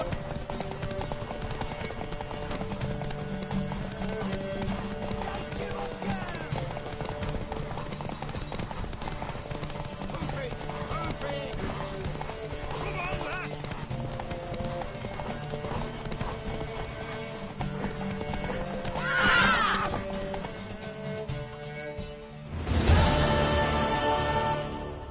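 Horse in The Witcher video game, rhythmic hoofbeats clip-clopping steadily across the scene over game music, with a short whinny and a rougher burst of movement near the end.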